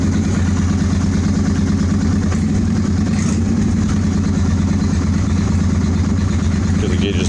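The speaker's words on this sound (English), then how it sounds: "I'm just gonna crack the throttle just a little." A 2003 Honda Shadow Spirit 750 motorcycle engine, with freshly cleaned and synchronized carburetors, running near and loud as the throttle is cracked slightly, a continuous, even engine note.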